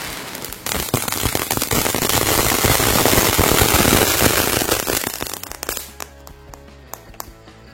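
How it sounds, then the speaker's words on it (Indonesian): A fountain firecracker set off on the eve of Eid sprays with a dense, steady crackling hiss for several seconds, then dies away into scattered pops and sputters. "itu dia ya mercon air mancurnya"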